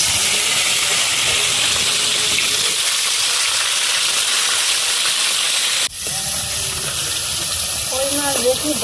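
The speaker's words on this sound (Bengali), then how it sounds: "এবার হবে কই মাছ ভাজা তাই তো?" Koi fish fry in hot oil with a dense, continuous sizzle and hiss, briefly jolted midway by a knock, then crackling on with small spitting pops, nearby and steady.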